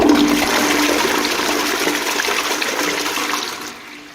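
A toilet flushes loudly and close, a continuous rushing gush of water that holds steady for several seconds before fading into a trickle at the end.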